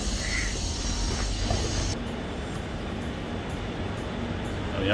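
A steady rumble of a metro train in a Madrid metro station, with broadband rolling noise and a brief high squeal near the start, no speech.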